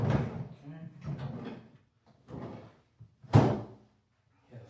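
A Milwaukee Packout tool box is pulled off a stack, giving one sharp, close plastic clunk between stretches of talking.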